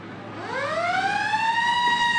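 A fire engine's siren winds up and wails loud and close during the Illinois homecoming parade in 2025, its rising tone sustained over faint street noise.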